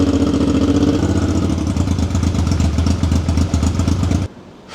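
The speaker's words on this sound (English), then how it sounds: "When I roll into the throttle, it still just bogs. And does not idle well, it keeps readjusting." Engine of a £300 project motorcycle running loud and close, a rough rumbling idle that shifts and wavers as it keeps readjusting, with throbbing pulses, before it cuts to a quieter background.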